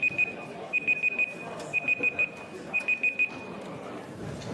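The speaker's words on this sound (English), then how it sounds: "is that enough beeping?" An alarm clock beeping in quick bursts of four, repeating three times, fairly loud over a low background murmur.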